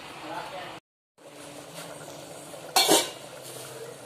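A lid is set down on a pot of simmering gongura (sorrel leaf) dal, giving one brief, bright clatter against a quiet kitchen background.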